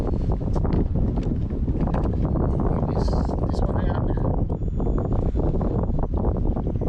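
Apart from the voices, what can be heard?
wind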